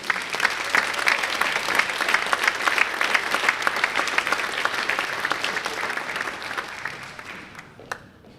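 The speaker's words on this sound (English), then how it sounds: "Let's have a round of applause for the cheer team seniors." A large audience claps steadily for the senior cheer team at a college athletic honors and awards ceremony, the dense applause holding loud for about seven seconds before thinning out, with a few last scattered claps.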